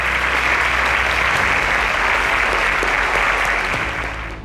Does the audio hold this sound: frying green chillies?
no